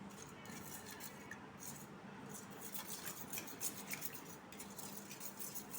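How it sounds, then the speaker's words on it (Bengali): An egg beaten with salt on a plate, producing rapid, quiet, continuous tapping and scraping of utensil on the plate, faint and close with no voices. "এবার এই ডিমটাকে ফেটিয়ে দিচ্ছি, প্লেটটার মধ্যে ডিমটা ফেটিয়ে দিলাম"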